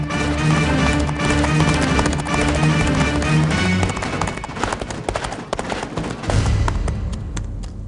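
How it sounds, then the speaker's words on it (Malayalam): Horse hooves clip-clop in a rapid, continuous stream, heard in a dramatic action-film scene under a loud, dense musical score that swells and shifts partway through. "ഈ സമയത്ത് എവിടെ നടാ കുതിരയുടെ ശബ്ദം?"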